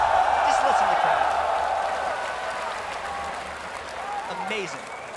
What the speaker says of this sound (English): Just listen to the crowd